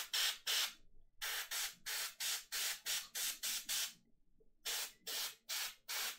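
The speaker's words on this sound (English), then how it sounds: "Then just a little bit lighter on the spray around his torso and his arms." Cheap Wish-brand airbrush spraying paint onto a wargaming miniature, in short repeated hissing bursts that come in an even on-off rhythm. After a brief pause the bursts pick up again, close to the microphone and without any speech.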